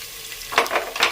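Small onions sautéing in hot oil for a drumstick kulambu, a quiet sizzle that suddenly swells into bursts of crackling and spatula stirring in the second half.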